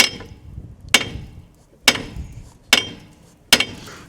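A seized front brake carrier on a Nissan Qashqai is struck with light taps: five sharp metallic knocks spaced about a second apart, heard close and clear against quiet workshop background.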